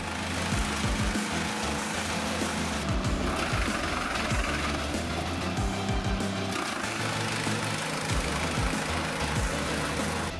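A GreenTech Sheeter 30 wood chipper with a 30-horsepower motor runs steadily, its engine droning loud and close, with rattling mechanical clatter and irregular knocks over the drone.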